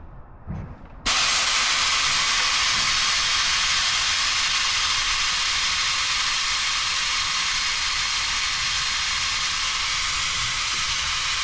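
A steady, loud broadband hiss runs without a break, like air being drawn hard through a vacuum bleeder, as brake fluid is sucked out of a caliper bleeder nipple on a Victory motorcycle.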